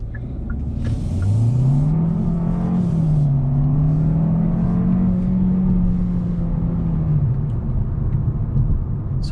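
Turbocharged 1.6-liter four-cylinder engine of a 2022 Hyundai Sonata accelerating, a loud rising drone that climbs in pitch, levels off under steady load, then eases away.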